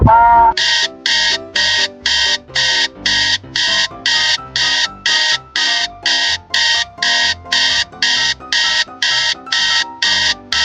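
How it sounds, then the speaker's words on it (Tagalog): An alarm clock rings in a steady, repeating pattern of loud electronic beeping bursts, about two per second, continuing throughout with no other sounds. "Kanina pa yung alarm na tumutunog."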